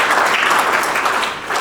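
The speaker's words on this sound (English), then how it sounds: "can we just give everybody here a round of applause" A brief burst of audience applause at a retirement recognition event in Cambridge, close and fairly loud, with many hands clapping steadily.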